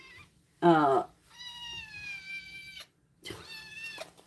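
An upset kitten, being held up high, gives one loud, close, strained meow followed by two longer, thinner wailing cries, with a person talking between the calls.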